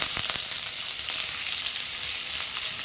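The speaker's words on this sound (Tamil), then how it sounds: "அதில் இந்த சின்ன சின்னதாக கட் பண்ண தேங்காயை போட்டு நம்ம வறுத்துக்கலாம்." Small pieces of coconut fry in ghee in a pan, giving a steady, bright sizzle that stays even throughout with a few faint stirring clicks.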